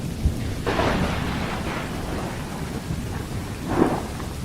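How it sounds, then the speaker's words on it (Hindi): Heavy rain pours steadily as a storm sound effect while deep rolls of thunder rumble twice, loud and full, with no voices. "इतनी बारिश में भीगते हुए कैसे आना हुआ?"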